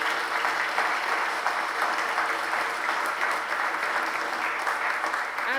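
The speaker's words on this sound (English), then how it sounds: "Shall we give a round of applause?" Sustained applause from a church congregation at a deanery celebration service, a dense, steady wash of many hands clapping at even loudness throughout with no break.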